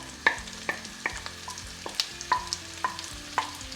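Two chopped onions sauté in melted butter in a pan, a soft sizzle under a series of sharp clinks and scrapes of a utensil stirring against the pan, spaced irregularly and close by.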